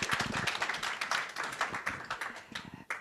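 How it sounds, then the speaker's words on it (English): A small group applauding at a meeting, scattered, fairly faint clapping with uneven rhythm that rises and thins over a few seconds. "let's give another round of applause for group 3"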